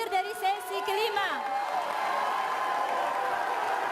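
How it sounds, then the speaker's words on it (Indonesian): Applause from candidates' supporters at a Jakarta gubernatorial debate rises into a continuous wash of clapping and crowd noise, with a voice speaking over the first second. "silahkan kalau dari para pendukung pasangan calon kita boleh tepuk tangan"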